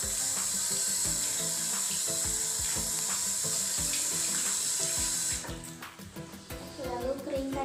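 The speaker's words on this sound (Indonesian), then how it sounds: "Lalu bilas." Tap water runs steadily into a sink while hands are rinsed at a school handwashing station, a continuous splashing hiss with brief clatter and changes in the flow near the end.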